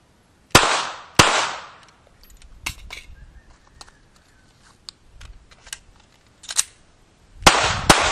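A pistol is fired one-handed during a shooting demonstration with a Tactical Magnetic Keeper: two sharp shots close together, then clicks and handling rattles, then a final pair of cracks near the end.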